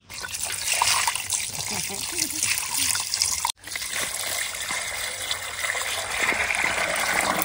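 Water splashes and trickles steadily while fresh fish are rinsed clean in a home kitchen, a continuous close pour with a brief break midway and voices talking over it.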